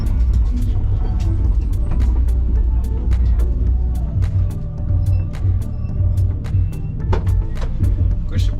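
A race car with a slipping clutch rolls slowly back toward the paddock, its engine a loud, steady low drone heard from on board, with faint intermittent clicks and knocks over the rumble.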